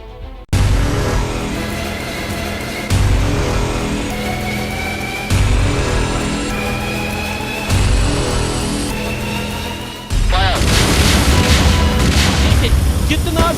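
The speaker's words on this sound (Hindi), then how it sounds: "कितना जबरदस्त विस्फोट इस समय यहाँ पे हो रहा है" A series of heavy booming blasts from army bombardment during an encounter in Anantnag recurs every few seconds, loud and close, with a voice talking over them throughout.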